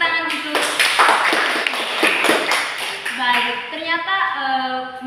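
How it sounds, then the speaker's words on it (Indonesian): A classroom of students claps hands together, a few scattered sharp claps over a sung or hummed tonal voice, with taps and pings close by. "Kita berikan tepuk tangan dulu."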